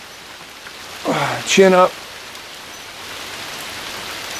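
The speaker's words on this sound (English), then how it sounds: "It has been raining for hours" Steady rain falling outdoors in autumn, a constant soft hiss of drops that continues throughout while a person briefly speaks over it.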